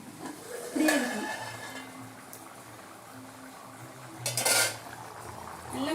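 A metal lid comes off a pot of boiling ponni parboiled rice kushka with two clattering clanks a few seconds apart. Low boiling and kitchen noise continue between them.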